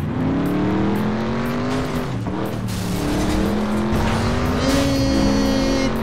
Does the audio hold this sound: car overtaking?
yes